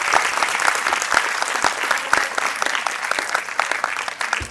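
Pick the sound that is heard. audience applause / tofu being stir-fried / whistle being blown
audience applause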